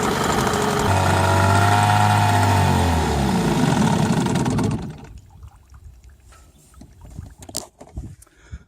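A small boat outboard motor with its fuel hose undone runs loudly and steadily, then sputters and cuts out around five seconds as the fuel runs dry, leaving quieter clicks and knocks.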